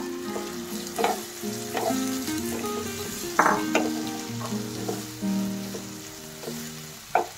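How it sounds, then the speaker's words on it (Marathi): Cluster beans frying and being stirred in a pan, a steady loud sizzle with scraping stir strokes and occasional clatter, no talking. "आणि परतत असतानाच त्याच्याबरोबर गवारीची भाजी टाकते।"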